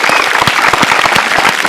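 A studio audience at a televised game show claps loudly for a contestant, a dense, close burst of continuous applause.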